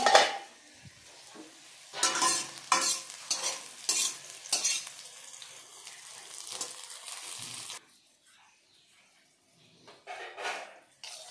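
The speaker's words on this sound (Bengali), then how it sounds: "আর এদিকে ভাজা বড়া বানানো শুরু হয়ে গেছে।" Bora fritters fry in a pan with bursts of sizzling and scraping from a spatula, loud irregular stirring for several seconds, then a quieter stretch with one last short burst.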